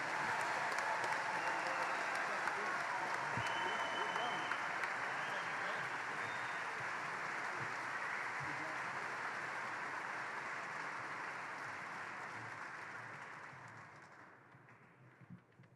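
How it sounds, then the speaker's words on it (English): A crowd at a college recruiting event applauds the new recruits with sustained, dense clapping that holds steady for most of the stretch before gradually thinning and fading out near the end. "Let's give them all a round of applause"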